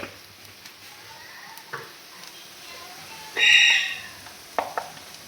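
Onions sizzle in a pan with a low steady hiss, swelling briefly into a louder burst of frying, with a few light clinks of stirring.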